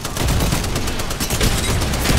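Rapid gunfire from an Apex Legends firefight, with shots striking Rampart's deployed barrier. A dense, continuous fusillade of loud overlapping bursts runs throughout, close and unbroken.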